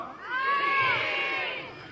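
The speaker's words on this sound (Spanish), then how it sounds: "¿dónde está el grito de las mujeres?" Women in a rodeo crowd shout together in a sustained, rising collective cry that swells and holds for about two seconds, loud and massed at an outdoor jaripeo event.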